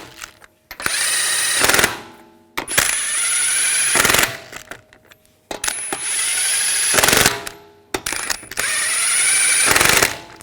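An impact tool drives lug nuts onto a rear wheel of a 2021-2023 Jeep Grand Cherokee L in four loud buzzing bursts, each about a second long and separated by short pauses, with no talk.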